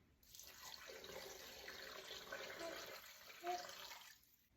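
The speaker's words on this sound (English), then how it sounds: "cover with hot water" Hot water runs from a tap over ground beef in a pressure cooker, a steady faint splashing stream for a few seconds with a brief louder gurgle near the end.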